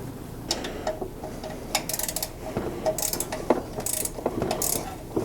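Bolts on the plastic thermostat housing of a Jeep Wrangler are snugged down with a hand ratchet, giving close, repeated clicking pawl strokes in uneven bursts with no talking.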